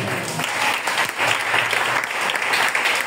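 Congregation in a church service applauding, a dense steady wash of many hands clapping at close range for a few seconds with no speech over it.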